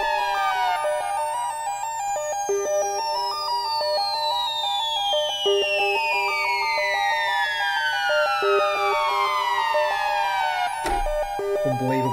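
Arturia EMS Synthi V synthesizer preset, sustained tones with sweeping, gliding pitches that descend slowly over a steady drone, ending with a sharp percussive hit, loud and continuous.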